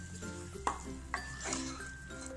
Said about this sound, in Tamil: இப்போ தேவையான உப்பு சேர்த்துடலாம். இதை நல்லா வதக்கிடலாம்.